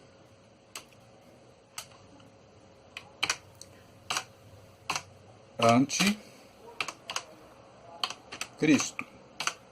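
Someone types slowly on a computer keyboard, hunting for keys, producing sparse single clicks that bunch into short bursts, with a person speaking in Portuguese between the keystrokes.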